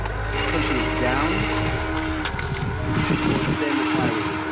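A combat robot's flywheel revs up with a rising whine and a broad mechanical drone, close and loud throughout, while a person talks over it.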